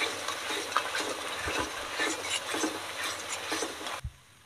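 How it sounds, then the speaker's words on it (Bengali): Spice paste fries in a pan during village cooking, giving a steady hissing sizzle with soft scraping stirs throughout, close and moderately loud, cutting off abruptly near the end. "এখনো মশলাটা ভাজা হয়নি, আরো কিছুক্ষণ আমি ভাজবো এইভাবে।"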